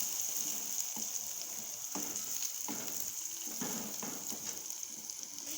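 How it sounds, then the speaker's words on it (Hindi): Ginger garlic paste fries in oil for a chicken heart karahi, giving a steady quiet sizzle with soft intermittent clicks and stirring knocks, and no talking. "1 टेबलस्पून इसमें अदरक लहसुन का पेस्ट ऐड करेंगे और इसको अच्छी तरह से भून लेंगे इसमें"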